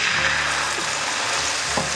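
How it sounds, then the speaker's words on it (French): Dry white wine poured into pearly risotto rice in a hot pan sets off a loud, continuous sizzling hiss with a bubbling, liquid wash underneath, close and steady, with no voices. "on va pouvoir venir déglacer avec le vin blanc sec"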